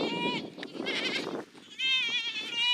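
Goats on a homestead bleat in a snowstorm, with several close, wavering cries separated by short pauses and a faint voice in the background.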